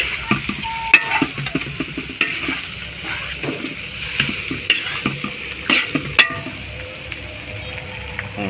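Pork liver sizzling in a hot pan while being stirred for pork menudo, with repeated sharp scrapes and clinks of the utensil over a steady frying hiss, close and fairly loud, no talking.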